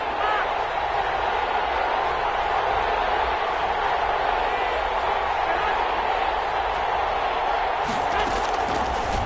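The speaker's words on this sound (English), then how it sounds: "the crowd getting into it as we come up on a big third down" A football stadium crowd roars steadily through a big third-down moment in a 49ers versus Saints game, a broad, sustained wash of noise that swells slightly near the end beneath speech.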